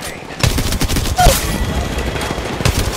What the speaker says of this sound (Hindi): अरे गोलियां चल रही तो भाई